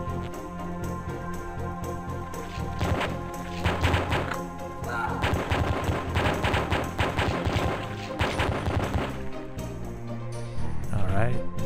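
Rapid gunfire from the dark first-person shooter Pathways Into Darkness rattles in dense repeated bursts against monsters, steady and fairly loud across the whole stretch with no pauses long enough to rest, with no voices.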